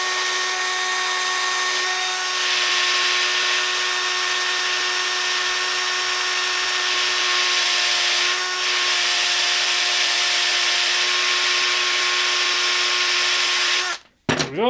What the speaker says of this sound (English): Here's my drill, and here's my buffing wheel.